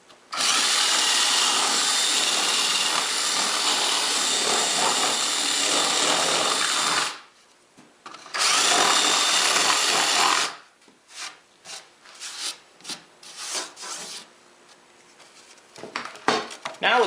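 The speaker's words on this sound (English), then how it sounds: "Now with the holes drilled," Power drill boring holes in wood for a bedside table build, two loud sustained drilling runs close by with a short pause between, followed by lighter knocks and handling of the workpiece.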